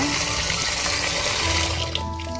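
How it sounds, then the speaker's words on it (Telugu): Raw chicken is rinsed under running water in a sieve, a loud, steady splashing gush that keeps going before easing slightly near the end. "చికెన్ అంతా బాగా వాష్ చేసుకోవాలి"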